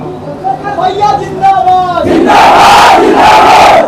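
A crowd at a political rally speech in Prayagraj roars, with loud shouting and slogan chanting from many voices that swells into a dense, sustained cheer after a brief lead-in of raised voices.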